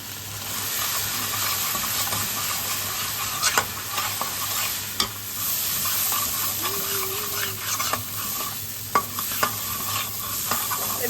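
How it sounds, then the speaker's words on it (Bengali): A masala of turmeric, Kashmiri chilli powder and salt sautés in a pan, a continuous hiss and sizzle punctuated by repeated scraping and knocking stirs, close up and without speech. "মশলাটাকে ভালো করে কষাতে হবে।"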